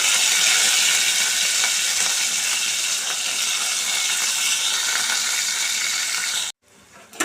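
Mustard seeds, cumin, onion, green chili and curry leaves spit and crackle in hot oil for a chickpea tempering, a loud, dense sizzle that runs steadily and then abruptly cuts away near the end.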